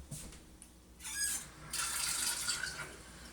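Faint splashing and hissing water pours into canning jars in short spurts, then a longer steady stream, heard up close and quiet.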